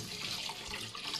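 Tap water runs steadily into a bowl while rice is rinsed, a continuous soft splashing hiss with little change over a second.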